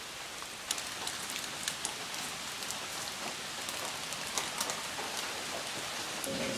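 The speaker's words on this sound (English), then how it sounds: "I mean, it's still raining" Rain falls steadily on a hiking trail in the White Mountains, a dense, even hiss with scattered sharper drops and patters pattering close by throughout.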